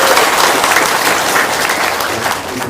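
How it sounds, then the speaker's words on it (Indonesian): Loud, close audience applause at a seminar talk, a dense continuous roar of clapping hands that holds steady for the whole stretch. "Sekali lagi dong tepuk tangan dong"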